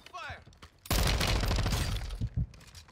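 Pistol fire in a Call of Duty match comes as a loud, dense burst of shots lasting over a second, followed by a couple of sharp pops, with brief voice-like sounds just before.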